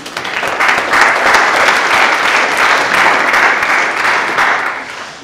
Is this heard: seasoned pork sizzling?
no